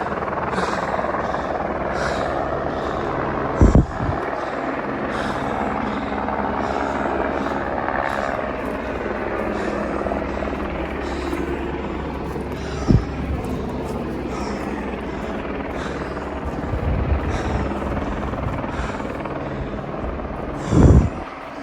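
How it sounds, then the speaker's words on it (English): A helicopter's steady rotor drone fills the air throughout, loud and close, with a few sharp knocks and brief voices breaking in. "It sounds like the helicopter's moving again."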